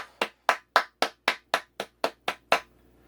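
Ten sharp, evenly spaced hand claps, close and crisp, at a steady moderate pace, then silence.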